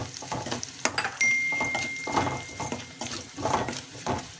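Salt and chilli powder being stirred into a sautéed mixture in a pan while making sirukeerai paruppu kadaiyal: repeated close scraping and clinking of a spoon against the pan over a faint sizzle, with no talking.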